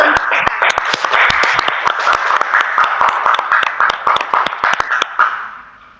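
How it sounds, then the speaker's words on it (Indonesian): A class of fifth-grade pupils claps together in a sustained burst of applause lasting several seconds, many overlapping hand claps forming a dense crackle that fades out at the end. "Beri tepuk tangan dulu untuk kita."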